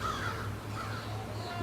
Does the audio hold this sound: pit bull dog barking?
no